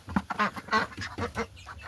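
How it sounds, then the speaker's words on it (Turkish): Ducks quack in quick, nasal bursts, several calls overlapping close by with no talking. "Ee, ördekler orada"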